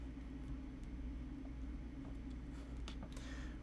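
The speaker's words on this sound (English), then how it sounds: "I think my heat turned on. You might be able to hear the humming in the background." A home heating boiler runs on the other side of a wall, giving a steady, low, muffled hum that stays faint and even throughout.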